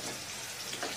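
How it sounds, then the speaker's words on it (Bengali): Cauliflower florets fry in a pan for winter vegetable khichdi, giving a short, steady hiss of oil with faint crackle throughout, with no voices. "তুলে ফুলকপিটা ভেজে নেব"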